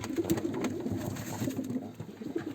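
Pigeons coo softly and continuously inside a loft, with low, rolling calls overlapping from several birds at a moderate distance and no talk.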